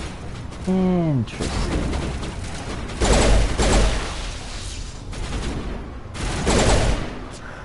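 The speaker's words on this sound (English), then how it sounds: "So the enemy can throw grenades" Gunfire and grenade explosions in the video game Mass Effect, booming blasts and rattling weapon bursts in several waves, with a chirping electronic effect early on and a voice speaking briefly.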